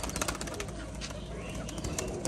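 Male Rajshahi pigeons at a loft calling with repeated low coos under a steady dense background of other birds and farm noise, some faint voices mixed in, continuous and fairly close.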